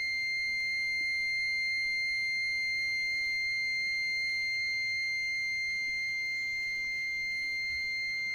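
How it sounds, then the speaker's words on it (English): A REM pod ghost-hunting device, set off by a temperature change during a paranormal investigation, emits a steady high-pitched electronic alarm tone that drones on unbroken over faint background hiss. "when it triggers like a temperature flux on the REM pod, it just goes and goes and goes and goes and goes"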